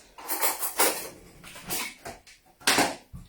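Seed biscuit ingredients are mixed in a bowl, giving a series of scraping, knocking swishes in uneven bursts, close by and fairly loud, with short pauses between strokes.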